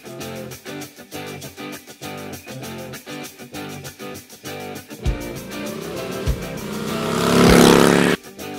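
Harley-Davidson Road King motorcycle engine, first a rapid rhythmic series of evenly spaced pulses, then a few sharp blips and a swelling rev that builds to a loud peak before cutting off, heard up close.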